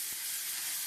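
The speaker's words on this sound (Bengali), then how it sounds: "এবার একটু মশলাটা নাড়ছি।" Spice paste with poppy seeds and water cooking in a pan, a steady bright hiss with a couple of faint low scrapes from stirring.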